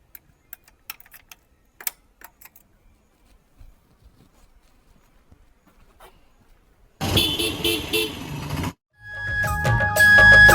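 A car on the way to a festival in Bhilai starts up: sparse clicks and ticks give way to a sudden engine burst, a brief pause, then a loud, steady running sound as it drives off.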